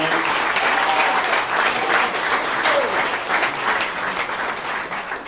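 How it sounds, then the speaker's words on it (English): Audience applause for a guest at a Tiger Tank event at Wittenberg University, steady dense clapping from a crowd filling the room at even loudness throughout, with no voices over it. "So let's give Scott a round of applause for being here tonight."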